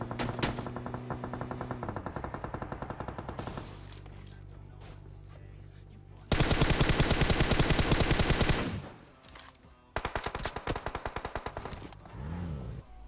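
Rapid bursts of automatic gunfire rattle loudly in sustained streams, with short pauses between volleys, sounding like game weapons in PUBG Mobile.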